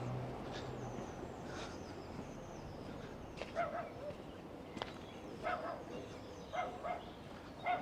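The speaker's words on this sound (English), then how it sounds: "A little doggy saying hello in that window." A small dog barks several times from behind a window near a thatched cottage, short muffled yaps in bursts toward the end over faint outdoor background noise.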